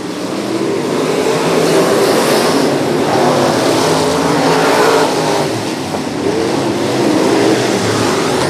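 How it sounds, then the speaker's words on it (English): Sportsman race cars roar around the Macon Speedway oval in a continuous, loud engine drone that swells and recedes as the pack passes. "Timmy Dick having just a little bit of trouble going through the top side of the racetrack"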